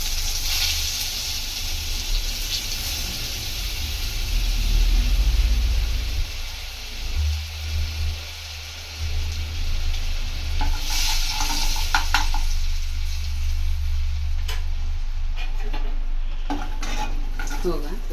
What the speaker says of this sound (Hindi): ये बटर डाल रहे हैं अपन अमूल का।